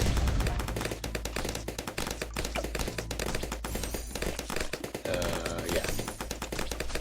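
Rapid volleys of dart shots from Desperado towers in Bloons TD6, dense overlapping cracks and pops layered over loud game music, continuous and busy throughout.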